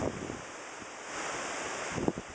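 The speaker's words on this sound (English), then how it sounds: "it is extremely windy here" Strong outdoor wind roars steadily in a broad, buffeting rush near the microphone, with brief gusty swells and no voices.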